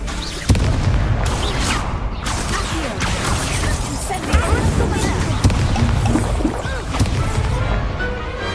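Explosive Confringo spell blasts in the Hogwarts Legacy video game: dense, loud booms and crashes fire in rapid succession over a continuous roar of combat, with game voices speaking over parts of it.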